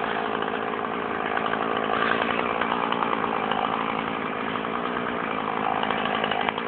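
Close by, a little Husqvarna chainsaw saws through tree branches on a roof, keeping a constant buzzing roar throughout without a pause.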